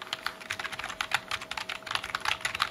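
Quick, continuous typing on a soft, quiet keyboard, with muted keystrokes close by and no voices.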